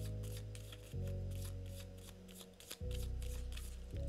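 Fortune-telling cards being shuffled and drawn during a cartomancy reading, a soft papery riffling and rubbing that runs throughout over a low steady musical drone, with no voices.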